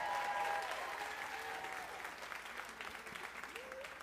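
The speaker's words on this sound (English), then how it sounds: "So let's give Mary a round of applause." An audience at a citizen project pitch competition applauds a presenter, continuous clapping that is strongest at the start and then slowly fades, heard at a distance, with faint voices mixed in.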